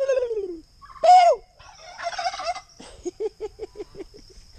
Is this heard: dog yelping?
no